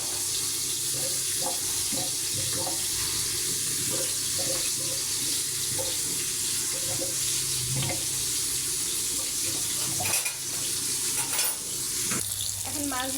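Tap water runs steadily over bitter gourd being rinsed in a sink, with hot oil sizzling continuously beneath as tilapia fries in a pan nearby; no voices.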